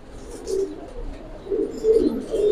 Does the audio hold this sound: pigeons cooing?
yes